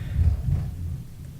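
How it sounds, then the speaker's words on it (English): Thunder from a storm outside rolls on as a steady low rumble, fairly loud at first and slowly fading, heard indoors without speech. "oh, that's thunder."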